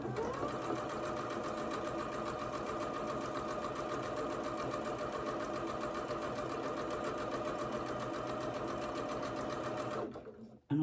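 A sewing machine stitches a quarter-inch seam on a charm pack quilt, running steadily and loud for about ten seconds with a fast even whir, then stopping abruptly near the end.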